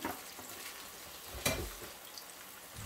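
Potato fritters fry in a pan with a soft, steady sizzle and hiss, fairly quiet, broken by one brief clack near the middle.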